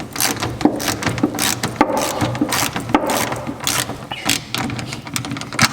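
A ratchet with a 14 mm socket tightens a bolt on a GMC tonneau cover, giving a steady run of quick clicking strokes close by, with clanks and rubbing in between.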